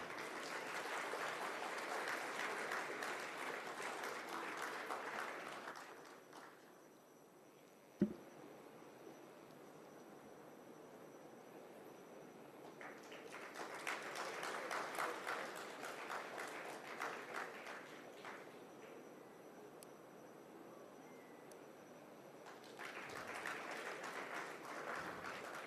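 Audience applause in an auditorium at a forensic sciences institute's Constitution Day event, in three separate waves of steady clapping broken by quiet gaps and a single sharp thump.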